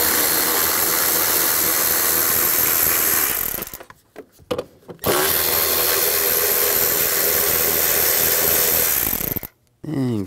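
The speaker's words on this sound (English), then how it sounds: "Take these two bolts out," A ratchet wrench with an 8mm socket clicks rapidly and loudly up close while backing out air box bolts on a 2011-2019 Ford Explorer. Two bursts of ratcheting are separated by short pauses and a few metallic taps.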